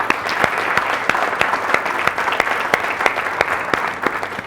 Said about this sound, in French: Ça s'applaudit.